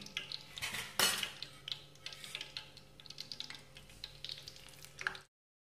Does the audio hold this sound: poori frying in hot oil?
yes